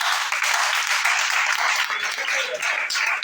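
A church congregation applauding and cheering, dense continuous clapping and voices heard together and fairly loud throughout, with no clear pauses.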